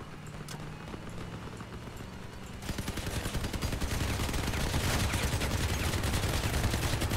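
Legendary M-39 machine gun firing in the Crossout vehicle combat game, starting after a quieter stretch of engine rumble and then rattling in a dense, fast, steady stream of loud shots that continues to the end.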